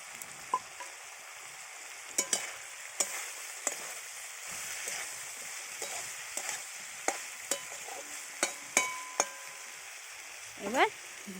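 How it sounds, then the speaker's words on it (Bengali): Cucumber pieces and shrimp sauté in a spice masala in a pan, giving a steady soft sizzle broken by sharp scraping and stirring clicks at irregular intervals, close and moderately quiet. "দেখুন শসাটা কষানো হচ্ছে, এর মধ্যে চিংড়ি মাছটা দিয়ে ঢেকে দেবে।"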